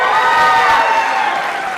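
A live audience at a Chicago show cheers and applauds loudly all at once, a dense close wash of clapping and whoops that holds steady and then begins to ease.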